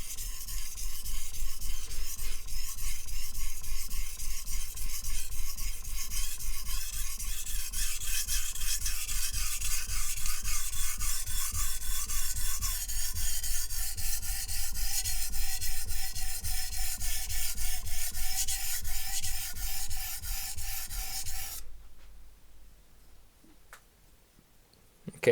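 A nakiri knife is sharpened on a whetstone in a steady, loud, continuous gritty rasp of blade sliding on stone for about twenty seconds. It then stops abruptly into near silence.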